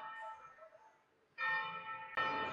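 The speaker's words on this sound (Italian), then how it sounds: "io le odio le campane, le odio profondamente" Church bells ring from a distance in Italy, their clear tones fading and then striking again more loudly, alone with no voices.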